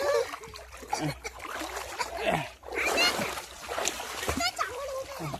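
Water splashes and sloshes repeatedly as children swim in a village pond, with children's voices and talk running throughout.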